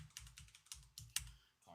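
Rapid clattering keystrokes on a computer keyboard, typed in quick irregular bursts with a sharper key strike near the end, close and fairly quiet, with no talking.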